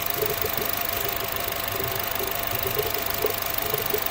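A Chevy engine idles with a leaking head gasket, compression escaping into the cooling system. It makes a steady, close, rumbling idle with faint rhythmic knocking pulses throughout and no voices.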